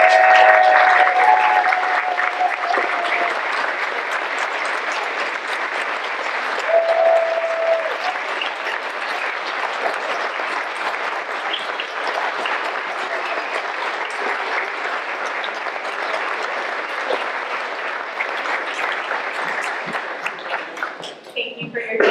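An audience at a Poetry Out Loud competition gives the contestants a long, steady round of applause, dense even clapping holding for over twenty seconds before tapering off at the end.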